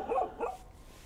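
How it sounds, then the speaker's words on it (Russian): A dog at a small house barks twice in quick succession, moderately loud and fairly close, then falls quiet. "Так, у нас там собака Кусака."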